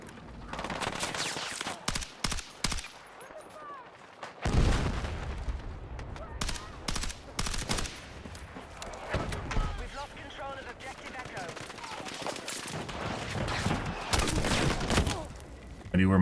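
Gunfire in Battlefield 6 comes in repeated sharp bursts and volleys, some loud and close, others thinner, with dense battle noise between shots.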